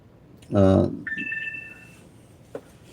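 A phone rings once with a short electronic chirp, cutting in just after a man's loud spoken word during a live call-in chat.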